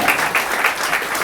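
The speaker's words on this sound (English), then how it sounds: "give her another round of applause" Applause for Rose Rush at the Bring Your Limericks to Limerick final, a sustained round of audience clapping, fairly close and full, continuing steadily with no speech on top.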